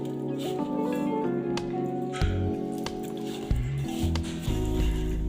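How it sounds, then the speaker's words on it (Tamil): Cabbage pakoda batter mixed by hand with a splash of water, giving close, wet squishing and squelching sounds in uneven bursts with small drips and patters, alone without talk. "இதை கொஞ்சம் நல்லா பிசறிக்குவோம்"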